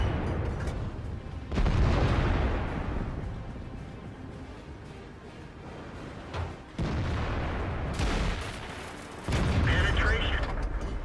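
In World of Tanks, a T54E1 tank cannon fires several heavy booms, each one loud and sharp, and hits on enemy armor crash in between, over a low mechanical rumble.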